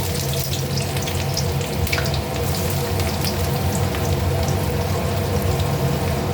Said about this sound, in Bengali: তেলটা গরম হয়ে গেছে আমি পেঁয়াজটা দিয়ে দেবো